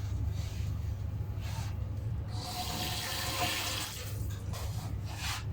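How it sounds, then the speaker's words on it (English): Water poured into a pot of onions, olive oil and salt for swordfish polpette, a steady broadband splashing rush that swells in the middle and runs continuously throughout, close by with no talk. "And I'll just add water."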